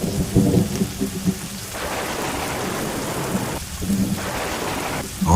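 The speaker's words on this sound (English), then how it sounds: "On a night when the rain wouldn't stop" Heavy rain pours steadily on surfaces at night while deep thunder rumbles and rolls through the downpour, loud and close, with no voices.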